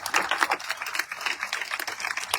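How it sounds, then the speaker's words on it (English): An audience at the 52nd Annual Bayou Classic press conference in New Orleans gives a round of applause, dense steady clapping that stays close and fairly loud the whole time, with no talk over it. "Give them a big round of applause."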